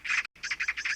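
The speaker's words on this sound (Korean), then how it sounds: "느티나무 위에서 귀를 찢는 듯한 까치 울음소리가 들려왔습니다" A magpie in a zelkova tree gives loud, harsh chattering cries, a quick burst, a brief pause, then a rapid run of repeated raspy calls close by.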